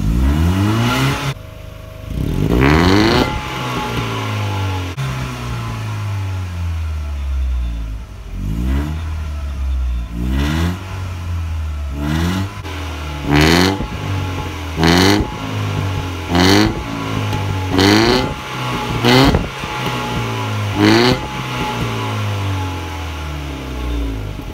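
A Mercedes-Benz W202 engine revs repeatedly in short bursts, each climbing and falling back to a steady idle, loud and close with no talking.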